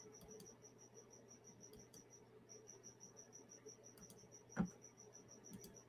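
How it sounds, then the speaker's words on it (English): Crickets chirp in a steady, rapid pulsing trill that runs unbroken through the whole stretch, moderately near and alone over a low background hum, with a single sharp knock or click toward the end. "Those damn crickets are chirping."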